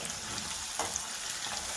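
Steady hiss of cashew nuts and lentils frying in hot oil, continuous and close, with faint crackles and no voices.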